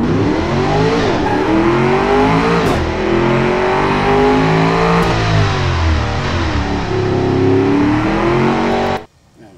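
A small blue car laps a test track in the Automation game, its engine loud and close, revving up and down through the gears in repeated rising sweeps before cutting off abruptly.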